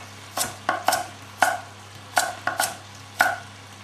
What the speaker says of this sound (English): Carrots, same thing, just cut them at a slice at an angle.